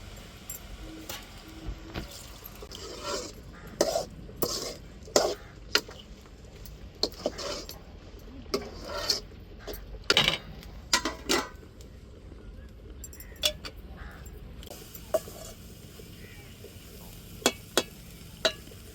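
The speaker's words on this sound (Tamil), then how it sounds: "இப்போ நம்ம அவிச்சு வச்சிருக்க பருப்பை சேர்த்துக்கிடுவோம்" Boiled lentils being added to a pan of kootu and stirred, with faint soft scraping and scattered sharp clinks of a spoon against metal over a low sizzle, quiet and intermittent.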